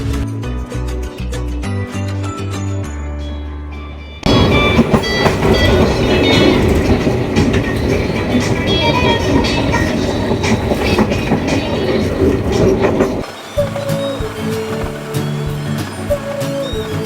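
KRL commuter electric train rolling along the rails, a steady loud rumble with rhythmic clickety-clack of wheels over joints, changing in intensity as the carriage moves, with no talking.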